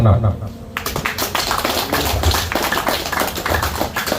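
An audience at a customary council gathering of the Kamoro people in Timika, Papua claps at close range, a dense ragged patter of hands that sets in abruptly and continues steadily, with voices mixed in.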